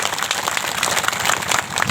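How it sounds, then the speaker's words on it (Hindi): An audience at an outdoor Sarna religious prayer gathering claps loudly, a dense continuous burst of applause from many hands. "उसके लिए ताली बजा दी जोर से।"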